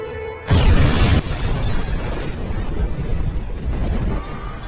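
A loud explosion in an action film, a sudden heavy boom followed by a dense rumbling roar with crackling debris that sustains for several seconds.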